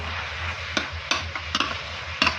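Chicken sizzles steadily as it is stir-fried in a small hot pan while a utensil scrapes and clacks against it several times, stirring.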